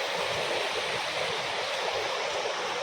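A stream rushes through ground torn open by a landslide in the tea-plantation hills of Wayanad, a steady, dense wash of flowing water with no break.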